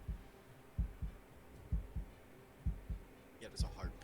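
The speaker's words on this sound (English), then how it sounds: "there's a heartbeat when you get close" Heartbeat sound effect from a digital Risk board game, paired low thumps repeating at an even pace, faint and muffled, with a voice briefly heard near the end.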